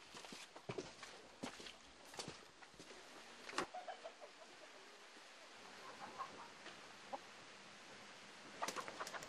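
Soft chicken clucks and scattered footsteps in a quiet outdoor setting, with a few sharper taps and rustles near the start and end.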